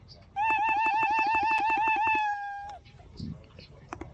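A cartoonish cat meow sound effect plays in Scratch coding software, a loud, quickly repeated warbling meow lasting about two seconds, followed by faint clicks and brief background noise.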